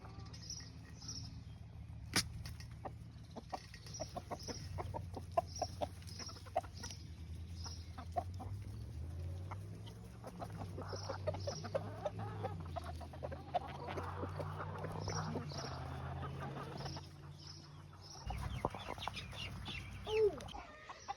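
Backyard chickens cluck and murmur in a farm run, soft repeated clucks and a few higher calls over a low steady hum, moderately near and fairly quiet, with no talking.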